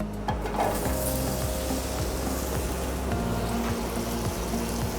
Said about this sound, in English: On the same pan, we want to cook and color the potato.